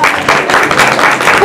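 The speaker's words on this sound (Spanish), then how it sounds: "Fuerte el aplauso para todos nuestros amigos y amigas" Audience applause at a children's recycled-art fashion show, a dense, steady patter of many hands clapping nearby with no pauses over its short span.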